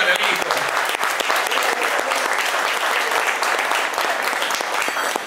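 Sustained audience applause at an awards night, dense clapping from a crowd continuing steadily throughout, with voices mixed into the noise.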